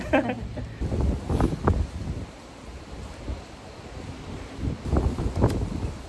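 Gusty wind buffets an outdoor hillside spot in Malico during a typhoon, hitting the microphone in uneven bursts that rise and fade, with a brief lull midway, while people talk nearby.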